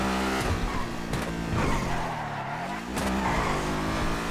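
A new car's engine drones loudly and steadily while being driven, its pitch rising and falling with throttle and gear changes, close and continuous with no talking.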